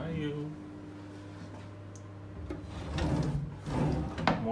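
Drawers in a Bangkok hotel room slide open and shut with a few soft wooden knocks and rubbing scrapes close by, following a steady low hum and a brief voice.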